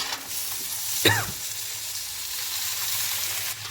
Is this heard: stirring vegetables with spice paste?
yes